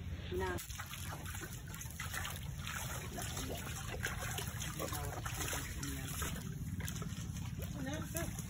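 A small outdoor stream trickles and gurgles faintly and steadily while people talk nearby.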